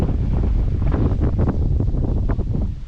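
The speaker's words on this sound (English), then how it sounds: "A little bit windy" Gusty wind on the Norfolk Broads buffets the microphone, a steady low rumble with rising and falling roars throughout, and no voices.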